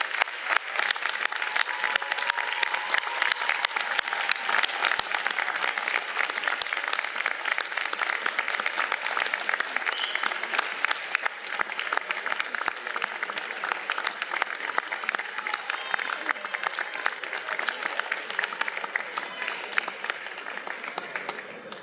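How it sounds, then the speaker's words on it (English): Large audience at a Northeast Ohio Medical University commencement ceremony applauds continuously and evenly, a dense, sustained wash of clapping from many hands that holds steady without pause. "Graduates, let's give a final round of applause in appreciation to the parents, family members, friends,"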